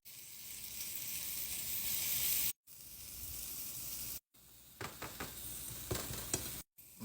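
Seasoned food toasts in a hot pan with a loud, steady sizzle, broken by brief abrupt gaps, with crackling bursts and light stirring scrapes toward the end.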